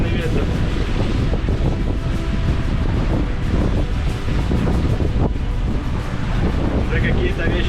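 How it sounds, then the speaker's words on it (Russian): Strong wind roars steadily at sea aboard a heeling sailing yacht under sail, making around 7 knots, with water washing over the starboard side; a continuous loud rushing buffet, close and unbroken, with splashing surf mixed in. "наверное, сильный ветер"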